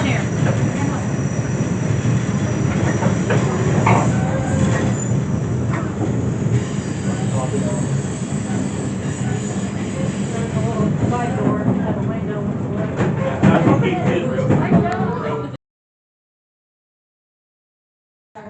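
Branson Scenic Railway passenger train rumbling steadily over the curved Barren Fork trestle bridge, a continuous close rolling roar of wheels and cars with some talking underneath, ending abruptly in silence.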